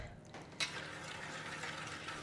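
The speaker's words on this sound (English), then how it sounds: "Some hot water" Hot water is poured into a palm sugar marinade with orange juice and coriander stalk. A faint, steady trickling fill follows a brief knock near the start.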